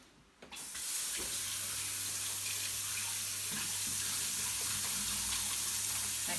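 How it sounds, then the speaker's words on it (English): Tap water runs steadily from a faucet into a sink during handwashing in a home kitchen before baking, a continuous close splashing hiss that starts abruptly after a brief quiet and holds for about six seconds with no talk. "I'm going to wash my hands."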